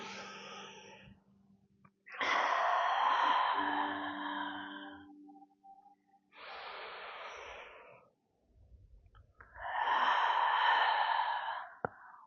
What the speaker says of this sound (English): Inhale, pushing the abs out.